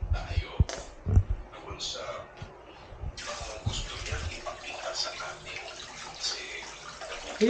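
Water runs from a tap in soft, uneven splashes as someone washes hands, punctuated by knocks and clatter, while people talk nearby.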